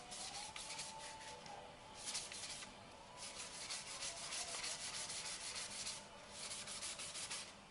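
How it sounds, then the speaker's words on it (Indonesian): Steady scrubbing on the copper face of a PCB board, rubbed in one direction in repeated back-and-forth strokes, close and fairly quiet, with no talk. "Gosok bagian papan PCB, bagian tembaganya. Gosok satu arah."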